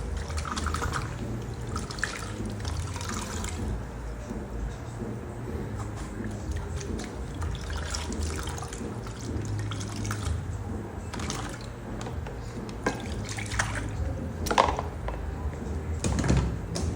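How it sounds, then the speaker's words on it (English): Water runs and drips while bleach is rinsed out of a wig's lace closure, a soft, continuous splashing close by with scattered louder drips. "I still rinsed it out, because we want to remove every trace of bleach on this lace."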